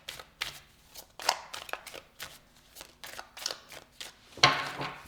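Tarot cards are shuffled and drawn during a reading. Quiet papery riffles, slaps and flicks come in irregular bursts, close to the microphone, and end in a louder flurry near the finish with no talking.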